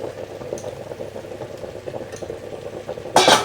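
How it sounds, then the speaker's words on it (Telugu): Cauliflower going into hot water while a cauliflower curry is cooked: a low, steady bubbling simmer, ending in a short, louder splash as the pieces drop in, close by, with no voices. "హాట్ వాటర్లో వేసుకున్న క్యాలీఫ్లవర్ని కూడా వేసేస్తున్నాను"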